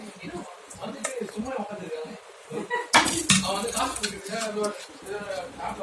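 Steel dishes and spoons clink and clatter close by as prawn masala and chapati are packed into a dinner lunch box, with one sharper clang partway through and a voice talking throughout.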